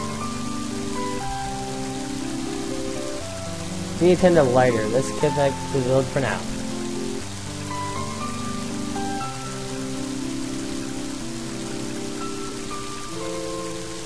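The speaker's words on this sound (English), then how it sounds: "And now it's starting to rain." Rain falling in the video game Mother 3, a steady hiss running the whole way under soft game music, with someone speaking briefly over it partway through.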